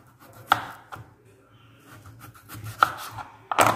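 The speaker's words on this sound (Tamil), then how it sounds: "இப்போ நம்ம கட் பண்ண ஆரம்பிக்கலாம்." A knife cuts peeled potatoes into thick French fry strips on a board, a few sharp close chops spaced irregularly with quieter sliding sounds between them.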